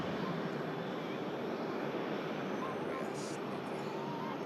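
A plane climbs out over the hangar at Manchester Airport, its engines giving a steady, broad roar that holds at an even level throughout with no pauses.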